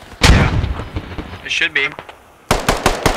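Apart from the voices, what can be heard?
artillery rounds landing in the video game Squad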